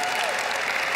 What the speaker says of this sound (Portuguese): salva de palmas para o multimídia